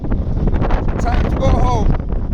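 Strong wind buffets a boat at its mooring near dusk, a steady roaring gust noise with rattling and flapping throughout, loud and close, with a faint whistling tone from rigging partway through.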